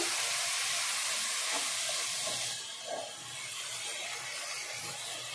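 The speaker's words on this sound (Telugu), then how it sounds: "అల్లం తెల్లగడ్డ పేస్ట్ వేస్తున్నానండి. పచ్చి వాసన పోయిందాకా వేగాలండి." Ginger garlic paste frying in a pan for a goat head curry, a bright close hissing sizzle that softens partway through and carries on steadily without any talking.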